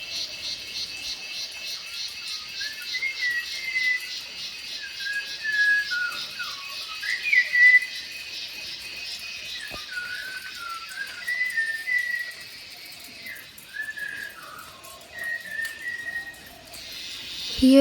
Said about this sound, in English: It's morning 6 now and you can hear the birds singing.